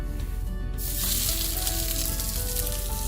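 A burger patty for a double BBQ cheeseburger sizzles steadily and loudly in a frying pan, with a continuous hiss of frying that swells slightly partway through.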